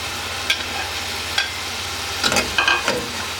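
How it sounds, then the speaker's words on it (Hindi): Mutton fries in a pot of yogurt masala with a steady low sizzle, punctuated by a few sharp scrapes and clanks of a spoon stirring, the strokes bunching together near the end. "गोश्त अच्छी तरह भून चुका है"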